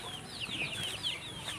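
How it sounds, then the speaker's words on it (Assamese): Local farm chickens cluck and chatter softly nearby, with a brief flutter of wings under a steady background hum. "এতিয়া মই এতিয়া মুৰ্গীকেইটা আপোনালোকক দেখাই আছোঁ এতিয়া চাবলৈ"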